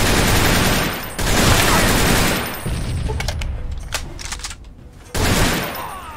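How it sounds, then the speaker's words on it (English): A Gatling laser fires in Fallout 3 as loud, dense rapid bursts of automatic fire, with short pauses between volleys and a closing burst. "Somebody's firing a Gatling laser. Which concerns me."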